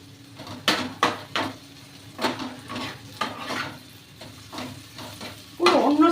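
A metal spatula scrapes and knocks against a pan while food fries with a soft sizzle, giving irregular clattering strokes over a low background hiss. A louder scrape of metal against the pan comes near the end.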